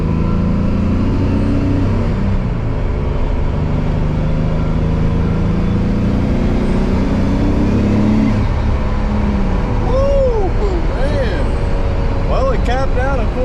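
A twin-turbo Nissan 300ZX drives and accelerates, its engine droning loudly from inside the car with rising and falling revs and faint whistling turbo sounds late on, while someone talks over it.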